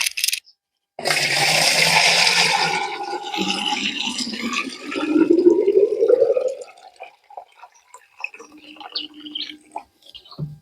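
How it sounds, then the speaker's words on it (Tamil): Sour buttermilk solution is poured into a ten-litre milk can, a splashing, gurgling stream that fills the can over several seconds and then trails off into scattered drips. "இது பத்து லிட்டர் கேனு பால் கேனு இதில் ஃபுல்லாக ஊற்றி"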